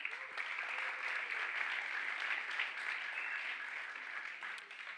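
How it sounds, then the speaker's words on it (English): Sustained applause from an event audience at a blockchain hackathon opening ceremony, steady clapping filling the room for the whole stretch without anyone speaking over it. "So I want to hear a big round of applause for NewCypher and Scale."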